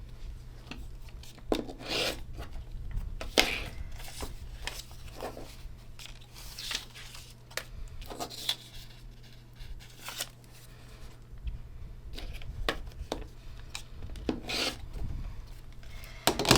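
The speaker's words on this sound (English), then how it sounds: "So I am going to trim actually on both sides of this piece." Fabric quilt piece trimmed on both sides, a steady close run of soft rasping, rubbing cuts and rustles over a low constant hum, with no talking.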